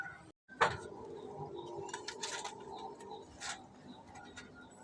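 Merpati puter doves coo once, briefly and fairly close, near the start of the clip. Steady background noise and faint ticking continue around the coo. The doves are being moved to a homemade cage because of an egg.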